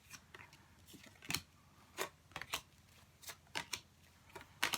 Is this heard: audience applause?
no